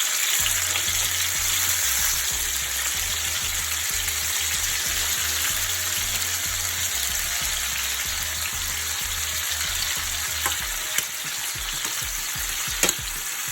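Onions, tomato and sweet pepper fry in oil for a Jamaican salt fish dish, giving a steady, loud crackling sizzle with occasional sharp pops near the end, and nobody speaking.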